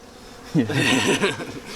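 Bees buzzing loudly and close around a Ukrainian-style hive, a sudden rising hum that wavers as insects fly past, with no talk.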